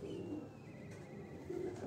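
A pet pigeon coos softly on a rooftop loft, a close, low burbling call that swells at the start and again near the end over quiet outdoor ambience.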